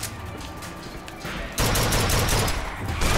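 Gunfire in the shooter game Bioshock Infinite comes as quieter bursts at first, then a loud, dense run of rapid shots and fusillade that fills the rest of the clip, with no talk.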